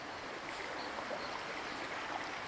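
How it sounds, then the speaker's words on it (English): A small spring-fed stream trickles through a muddy gully, a steady soft wash of flowing water with no voices. "There is a really little amount of water flowing through it out of a spring."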